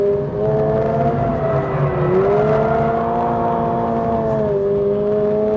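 A Toyota GR86 sports car climbs a long uphill third-gear left on a race track, its engine holding a steady strained drone with slight pitch dips at gear load changes, loud and close from inside the cabin, no voices.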